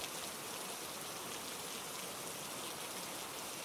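Steady, dense rain with wind hisses without pause, a broad wash of falling water with no voices.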